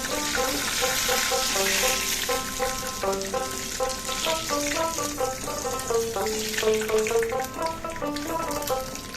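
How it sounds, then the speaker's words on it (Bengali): Lentil and shrimp muitha dumplings fry in hot oil with a steady close sizzle and bubbling, heard under continuous melodic background music. "একইভাবে সমস্ত মুইঠাগুলো ভেজে নিতে হবে"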